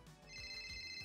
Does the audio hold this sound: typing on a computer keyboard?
no